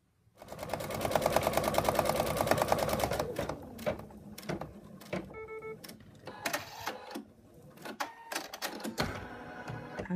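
An embroidery machine stitching an in-the-hoop wallet pocket runs a dense, rapid mechanical chatter up close, then breaks into shorter uneven bursts of stitching with clicks and pauses.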